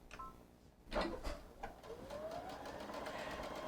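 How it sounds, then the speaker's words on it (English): A Brother sewing machine with a laser vision guide stitches fabric, a quiet rapid mechanical whir that starts after a few soft clicks and runs steadily to the end. "And now you're just going to sew."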